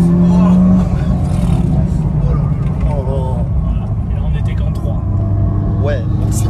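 A Mitsubishi Lancer EVO 8 Stage 2 rally car accelerates from inside the cabin, its engine a steady loud drone under overlapping speech and road noise throughout.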